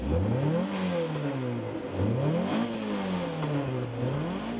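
A small 2-litre, 200-horsepower Renault front-wheel-drive car engine revs up and down repeatedly toward 8,000 RPM, its pitch climbing and falling in smooth sweeps, loud and close.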